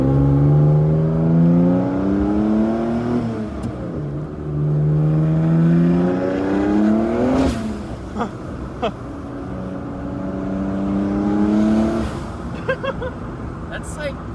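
A car engine revs repeatedly after a motor swap, rising and falling in several loud pulls close by, with a few sharp clicks and people talking over it.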